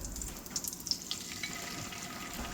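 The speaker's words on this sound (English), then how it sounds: "Hear that sizzle? That means it's hot enough." A hot pan sizzling before caramelized onions and asparagus go in for an omelet, a quiet, even hiss with light crackles and a few faint pops, no voices.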